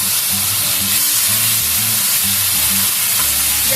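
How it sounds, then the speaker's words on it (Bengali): Grated onion fries in a pan with loud, dense hissing and crackling that stays constant throughout, close and undisturbed by talk. "পেঁয়াজটা আমি একটু লাল লাল করে ভেজে নেব"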